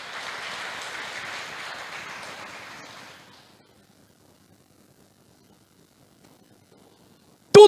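A church congregation applauding for Jesus, a dense wash of clapping that fades out after about three seconds, followed by near silence and a sudden loud burst at the very end.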